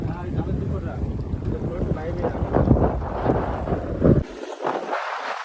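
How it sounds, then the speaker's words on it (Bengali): Strong wind and choppy waves on a river around a fishing boat, with loud gusty wind buffeting the microphone and water sloshing against the hull. Muffled voices come and go underneath. "বিশাল পরিমাণে ঢেউ আর হাওয়া উঠে গেছে"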